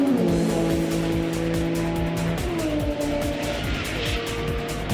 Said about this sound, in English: The Scirocco runs at the top of its class with its natural gas engine